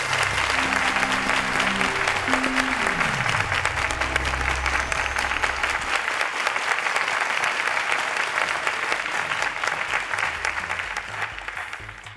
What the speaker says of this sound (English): a round of applause for fantastic performance